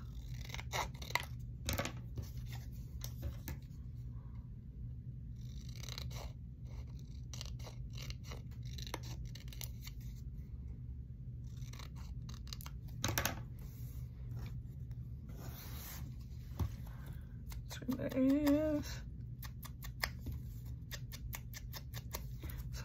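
Scissors cut paper during a papercrafting session, a series of quiet, close snips and rasps scattered over twenty seconds with pauses between.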